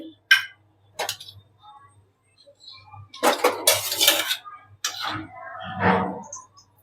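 A pressure cooker set down on a kitchen stove for making masala khichdi, heard as several separate metallic clanks and clinks of cookware, close and fairly loud, with quiet gaps between them.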